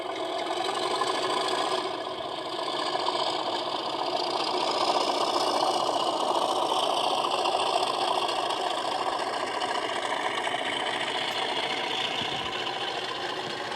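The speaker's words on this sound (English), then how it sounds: "But first we have to enjoy the sounds of this new locomotive that Robin brought." A model diesel locomotive's steady mid-pitched engine sound rumbles and idles continuously, with a dense throbbing texture and no talking.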